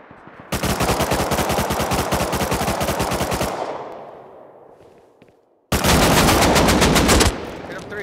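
Sustained rapid automatic AK rifle fire in the video game Rust, a loud close burst of several seconds that trails into echo, then a second fast burst after a short gap.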